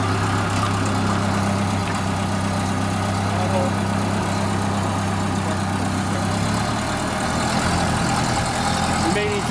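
A 1930 Ford Model A pickup engine idles steadily and loudly throughout, a continuous low rumble with a droning hum, with people talking over it.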